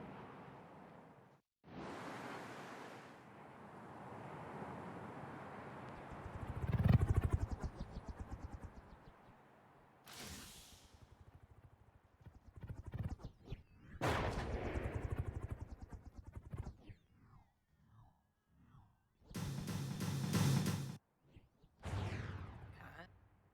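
Missiles and gunfire go off in the naval combat game From the Depths, with sharp bursts and booming blasts in irregular clusters separated by near silence.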